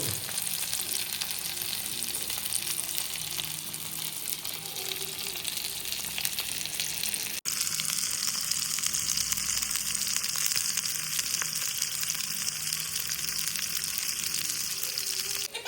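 Fish fries in a pan with a dense, constant sizzle and crackle heard up close, briefly cut off midway before resuming just as strong and busy.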